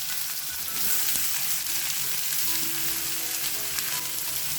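Long-cut onion slices fry in hot oil with spluttering mustard seeds, cumin and hing for a brinjal dish, giving a loud, steady, close sizzle with faint crackles and no talking.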